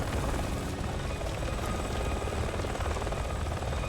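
Helicopter rotor chopping steadily in Resident Evil 5, a loud continuous whirring thrum with no pauses.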